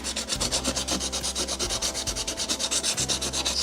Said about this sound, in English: sanding creates very little particles that are very light and they are flying